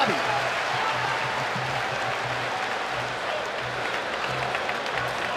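Appreciative arena crowd applauds after the UFC 294 fight between Khamzat Chimaev and Kamaru Usman in Abu Dhabi, a dense, steady wash of clapping and cheering filling the whole stretch.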